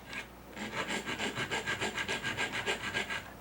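A file rasps steadily over the wooden handle of an Opinel knife in rapid, even back-and-forth strokes, close and fairly loud, with nothing else heard.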